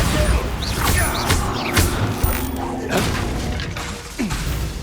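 Bombarda blasting-spell explosions in the video game Hogwarts Legacy on PS5 bring heavy booms and crashing debris over rumbling game noise, with magical whooshes, loud and dense.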